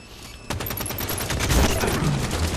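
Assault rifle fire in the Halo 5 beta breaks out in a rapid, sustained burst of close, loud automatic shots that keeps going to the end.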